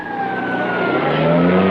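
A car engine revs and pulls away in an old television sitcom scene, a steady loud motor drone with a rising tone throughout, no voices over it.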